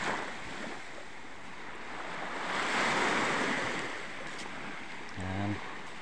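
Ocean surf washes onto a beach beside a small rock formation, a steady broad roar that swells in the middle and eases off, with wind buffeting the microphone throughout.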